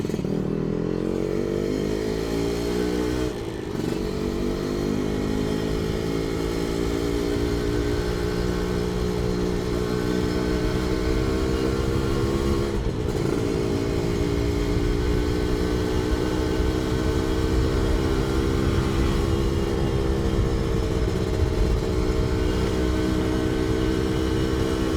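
A Satria two-stroke motorcycle ridden along a street, its engine droning loud and close with steady harmonics, briefly dipping at gear changes around a few seconds in and again midway, then holding a rough, buzzy note throughout.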